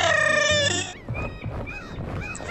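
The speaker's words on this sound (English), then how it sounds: "The ducks!" Ducks in a video game quack loudly in a quick burst of nasal calls, followed by several shorter, scattered quacks over a busy game background.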